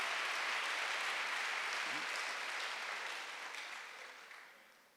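Congregation applause during a Sunday church service, a broad wash of clapping that starts full and slowly fades away over several seconds, with a brief voice sound partway through.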